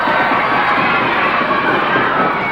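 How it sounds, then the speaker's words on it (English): A wrestling crowd cheers and shouts all around the ring at a Giant Haystacks versus Skull Murphy bout, a loud, dense, continuous roar of many voices with no break. "the excitement of the crowd all around the ring now"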